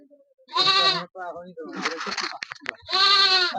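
Goats bleating at a goat market, several loud, close, wavering bleats in separate bursts, with people's voices mixed in between.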